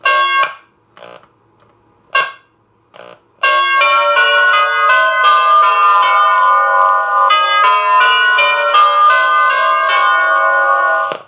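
A Heath Zenith electronic doorbell gives a few short, clipped tones, then launches into a loud, continuous multi-note electronic chime melody that rings on for several seconds, close and clear.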